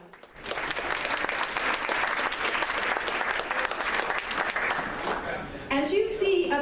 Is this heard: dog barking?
no